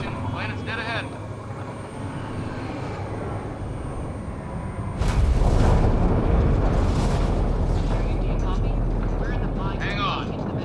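Spaceship entering a planet's atmosphere in the Mass Effect Andromeda video game: a steady engine rumble jumps to a loud, roaring surge of turbulent noise midway and holds it to the end.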